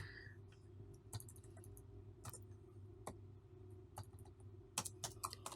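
Typing on a computer keyboard while writing PL/SQL code, quiet irregular key clicks in short bursts over a low steady background hum, picking up toward the end.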